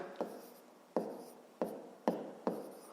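Pen writing numbers by hand on paper for a fifth-grade maths exercise: five distinct scratchy strokes, each starting with a small tap and trailing off, close and quiet with no talk.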